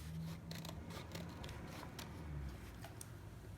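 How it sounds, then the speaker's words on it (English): Scissors snip at book pages in short, crisp cuts, a few quiet rhythmic clips close up with faint paper rustling between them. "You can take a pair of scissors and you can give your pages just a little trim."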